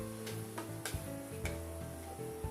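Sliced carrots drop into a hot frying pan of black pancit with squid, giving a steady loud sizzle broken by a few sharp clatters as the pieces land and are stirred.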